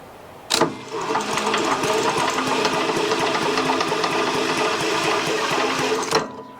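A Briggs and Stratton small engine with no spark is cranked steadily by hand, giving a loud, even mechanical whirring with rapid ticking that runs for about six seconds. Sharp clacks mark the start and the finish.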